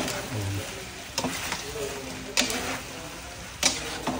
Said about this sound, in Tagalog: Haluin po natin, ha, makita nyo po ang kuwan nyo.